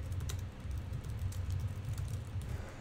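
Soft, steady typing on a computer keyboard, quiet rapid keystrokes pattering without pause over a faint low hum.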